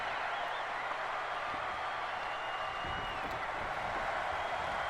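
Arena crowd at a WrestleMania VIII pro wrestling match, cheering for Jim Duggan, a steady broad roar that fills the hall with no break, heard from within the stands.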